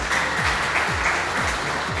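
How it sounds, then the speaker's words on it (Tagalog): Audience applause at a crowd-management seminar in Batangas, a sustained wash of many hands clapping at moderate volume. "Palakpakan natin."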